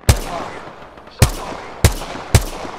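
Four sharp gunshots from Apex Legends crack out at uneven intervals, each a loud broadband burst with a quick fading tail, fired at the player over low background noise.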